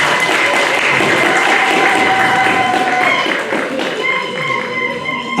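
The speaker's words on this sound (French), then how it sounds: "et on l'applaudit." Audience applause at a Paris gathering of African diaspora authors: dense, steady clapping fills the room throughout, with voices and some tonal sounds mixed in.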